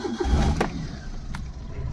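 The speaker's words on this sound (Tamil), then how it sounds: "வண்டி ஸ்டார்ட் பண்ணி பார்க்கலாம்." A Maruti Suzuki Alto 800 petrol engine with about 100,000 km cranks and catches, then settles into a quiet, steady idle, heard close by with no talking.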